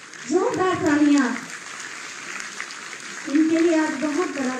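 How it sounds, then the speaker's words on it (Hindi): Clapping crowd at a Lucknow government ceremony where house keys are handed out, a moderate burst of applause filling the gap between stretches of an announcer's amplified voice. "जोरदार तालियां"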